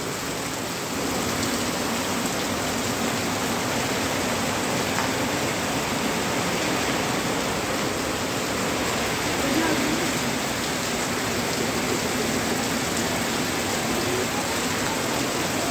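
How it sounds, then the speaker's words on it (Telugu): A sudden heavy village downpour gives a dense, unbroken hiss of rain hammering nearby surfaces, loud and steady from start to finish. "చూడండి సడన్గా ఎంత వర్షం పడిందో"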